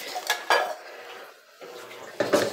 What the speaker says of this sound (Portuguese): Só tirar a louça dali e guardar.